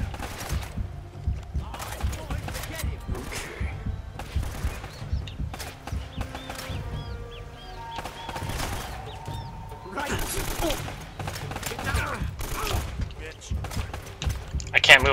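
Gunfire strikes the player character in the video game Uncharted 3, with repeated sharp bursts of shots scattered throughout over a constant background of game noise and music.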